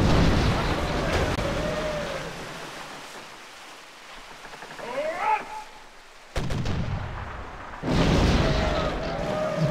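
Booming cannon fire from ships in the game Sid Meier's Pirates!, rumbling blasts with noisy rolling tails, a quieter stretch with a short whistling sweep, then another heavy burst.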